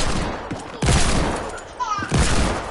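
Desert Eagle pistol fire in a video game, two heavy close gunshot bursts with a short gap between them, loud over a steady game background, with a voice speaking faintly.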